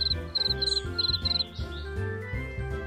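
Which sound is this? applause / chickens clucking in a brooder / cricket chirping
cricket chirping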